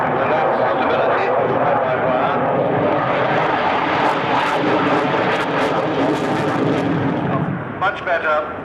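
A military jet performs a flying display at the 1992 Farnborough Airshow, its engine roaring loud and steady throughout, with a commentator talking over the noise.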